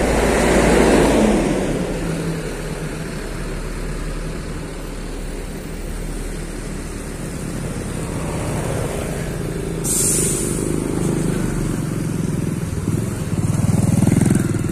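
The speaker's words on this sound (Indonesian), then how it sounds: "raungan mesin maticnya tuh khas banget" A bus with an automatic transmission and air suspension roars steadily as it pulls in, its engine drone loud and continuous throughout, with a brief higher-pitched hiss partway through.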